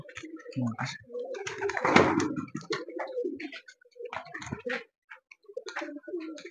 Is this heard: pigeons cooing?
yes